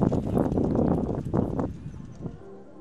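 Horse hooves thud and drum across ground during a cross-country eventing course, fairly near and loud, with a burst of heavy strides that fades out toward the end.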